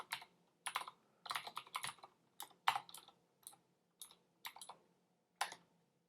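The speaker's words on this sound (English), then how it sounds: "I'm still learning how to use this keyboard." Bursts of typing on a computer keyboard with a light clicking texture, fast clusters of keystrokes separated by short pauses, close and fairly quiet, with no talking.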